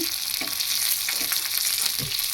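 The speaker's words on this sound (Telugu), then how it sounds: "కొత్తిమీర, పుదీనా. ఇవి బాగా వేగాలి." Coriander and mint leaves fry in hot oil in a pan, a loud, steady close sizzle broken by a few stirring scrapes, with no voices.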